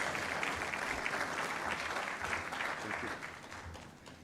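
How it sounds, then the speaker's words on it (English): A fairly quiet room of attendees at the opening ceremony of the 2025 EU–Kenya Business Forum gives a sustained round of applause, an even wash of clapping that fades slightly near the end. "A round of applause for him,"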